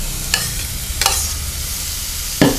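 Chopped celery tossed into a pot of sizzling garlic for leek and potato soup: a steady close sizzle broken by a few sharp scraping stirs.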